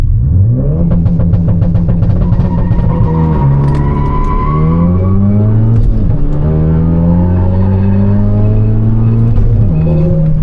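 A Honda Accord and a Ford Focus RS launch side by side from a dig, their engines roaring loudly and climbing through repeated gear-shift revs, with brief tire squeal at the start; loud and close, no talking.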